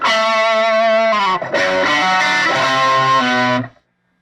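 Heavily distorted electric guitar chords ring out loud and saturated through an amp, a sustained chord, a brief break, then another thick held chord fading at the end.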